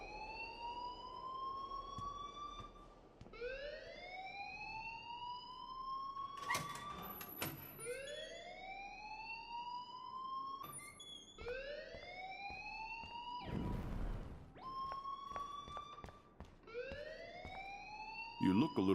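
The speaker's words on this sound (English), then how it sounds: "please turn off that alarm since that's your job" A fire alarm in the video game Life is Strange sounds as repeated rising siren-like wails under steady room noise, broken by a few sharp clicks and thumps, with no talk.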